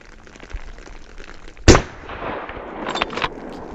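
One sharp, loud rifle shot at a wild boar during a hunt in snow, with a short reverberating tail. A rustling, uneven wash of noise follows.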